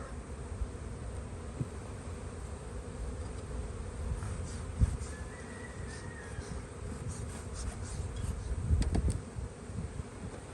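A dense swarm of honey bees drones at an open hive in springtime Southern California, a continuous close buzz that holds steady with a few soft knocks and no voices.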